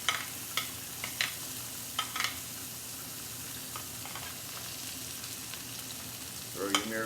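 Onions sizzle steadily in a pan around pieces of veal ossobuco, with a few sharp stirring scrapes early on and a louder spatter near the end. No one speaks.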